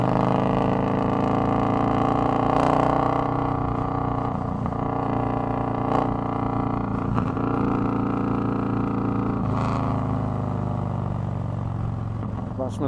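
A Yamaha motorcycle engine runs loudly and steadily up close with a deep throbbing rumble, while someone talks over it.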